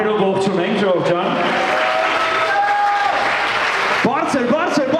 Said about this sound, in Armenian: Միշել Նաջարյանին եմ ուզում միան ծափերով ողջունենք